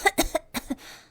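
A flower gives a forced, fake cough, a short burst of three or four dry hacks followed by a softer, trailing breath.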